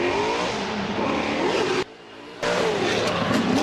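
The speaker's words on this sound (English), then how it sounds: "Here we go, off the line for Gabriel." Spec-D race car launching off the line at Agassiz Speedway during qualifying: loud, steady engine roar with a brief sharp drop as the driver shifts or lifts, then the engine resumes at full volume.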